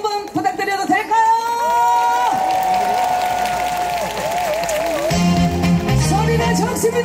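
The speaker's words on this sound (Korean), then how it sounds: "박수와 함께 큰 함성 한번 부탁드려도 될까요?" A concert crowd at an outdoor trot music show claps, whoops and cheers loudly and continuously, with shouting voices rising throughout.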